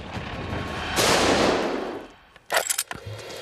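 A loud, sustained burst of gunshots hitting a bulletproof vest plate, followed by a brief lull, then several sharp, rapid cracks in quick succession.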